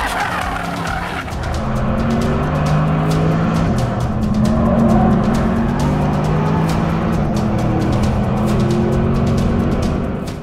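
A Porsche Panamera race car lapping the Nürburgring Nordschleife, its engine roaring loud and steady throughout with shifting pitch and tire noise, no talk over it.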